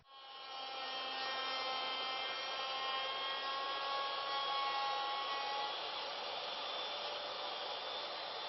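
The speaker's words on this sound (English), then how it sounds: "The first step is just use the 2-flute straight cutter and remove this corner." A 2-flute straight cutter mills a corner off a wooden bowl blank. The router whines at a steady high pitch, close and continuous, with harmonic tones that shift slightly as it cuts.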